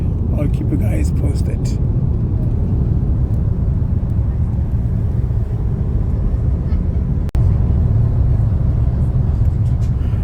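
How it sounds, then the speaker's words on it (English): Inside an A330 airliner cabin during landing, a loud, steady low engine and airflow rumble fills the clip, with a voice speaking briefly at the start. "this is inside the aircraft"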